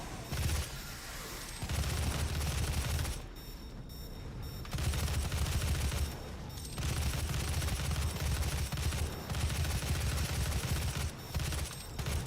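Micro missiles firing in Doom Eternal: long, dense bursts of rapid fire with a heavy low rumble, loud and sustained, broken by short pauses between volleys.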